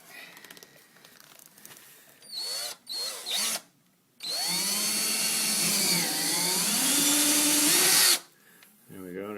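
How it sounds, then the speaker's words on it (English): A handheld power drill bores a hole through a model railroad layout's road bed, with a few short revving bursts and then a sustained whine of about four seconds as the bit spins and its pitch shifts under load. "And now, Bob, you're going to drill a hole, right?"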